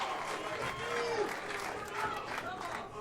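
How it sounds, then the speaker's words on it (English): A crowd at a 2007 boys state final baseball game cheers and claps in a sustained, moderately distant swell that rises and falls, with a voice talking over it. "I think that the crowd's into it now. It's got the rooting section going there."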